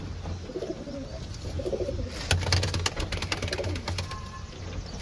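Pigeons coo at a pigeon-race challenge, with low murmuring calls repeating steadily through a noisy outdoor background and scattered bursts of clatter and wing or cage noise partway through.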